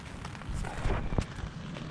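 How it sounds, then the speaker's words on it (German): Heavy rain at an outdoor emergency shelter, a steady close patter and hiss drumming on a nearby surface, with a few louder knocks and rustles. "Jetzt regnet es stärker."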